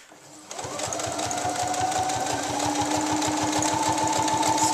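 A sewing machine stitches a straight seam joining lining to a dress bodice. It starts after a brief pause, then runs as a fast, even, rhythmic mechanical patter that continues steadily and close by, with no talking.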